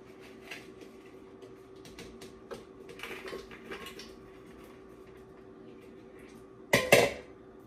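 Frozen mango and strawberry chunks are tipped into an ice cream machine container, with light scattered clicks and taps building to a brief, louder clatter near the end against a steady low hum.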